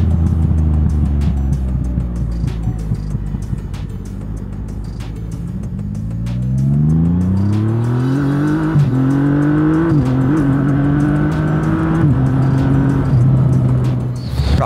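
A Triumph Rocket III R motorcycle engine accelerates with a loud, close, deep throaty drone whose pitch climbs steadily through the gears, with no voices.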